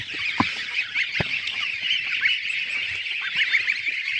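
A flock of geese honks continuously nearby on a farm, overlapping calls forming a busy, noisy chorus with a few soft thumps.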